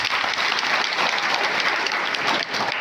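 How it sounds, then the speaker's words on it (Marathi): Sustained applause from an audience at a padayatra gathering, dense steady clapping that fills the whole stretch and dips only briefly near the end. "या माणसासाठी एकदा टाळ्या वाजवलं."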